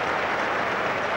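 Leicester City football crowd at a match applauding, a dense, loud, continuous roar of clapping filling the stadium with no break.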